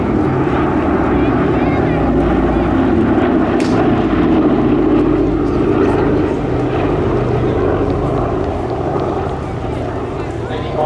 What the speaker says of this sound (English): here we are for the final flight past, emulating an injured aircraft limping back with two engines smoking.